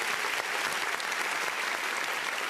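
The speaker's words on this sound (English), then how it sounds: "Were that a loud enough applause for you this time?" Loud, dense audience applause for a performer being introduced at an online show: sustained clapping and crowd noise that stays steady and close throughout.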